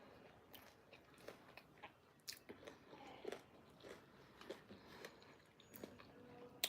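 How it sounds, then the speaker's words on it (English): Crisp, repeated crunching bites into McDonald's-inspired plant-based food, a chicken-style Big Mac, heard close and fairly quiet, with irregular bursts of chewing and no talking. "You hear that crunch?"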